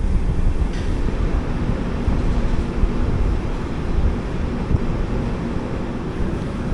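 A train running through Sathya Sai Prasanthi Nilayam railway station on the Kondaveedu Express route, with a steady, loud rumble and wind-like rushing noise that continues unbroken throughout.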